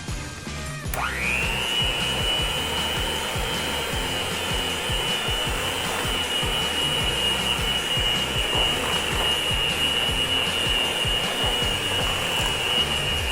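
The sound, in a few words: mixing cream cheese cookie dough with sugar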